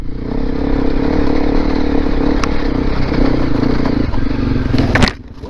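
A Honda CRF250L Rally motorcycle climbs an off-road trail uphill, its engine a loud, close, steady drone with clattering and scraping over rough ground before it cuts off abruptly near the end.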